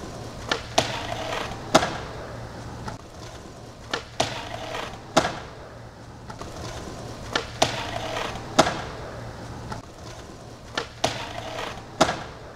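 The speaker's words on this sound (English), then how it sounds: "So in order to hear the skateboard sounds more clearly, you have to throw in the compressor" Skateboard rolling on pavement, picked up by the VX1000 camera mic, with repeated sharp clacks and pops from tricks and landings over a steady rolling rumble and hiss, fairly close and moderately loud.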